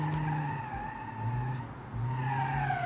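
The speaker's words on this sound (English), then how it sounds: "Check it out, drifting and everything." The tyres of a ZAZ 1102 Tavria with a 1.1-litre engine squeal in a sustained drift in Automation, with the engine humming beneath, and the squeal dips briefly before rising again.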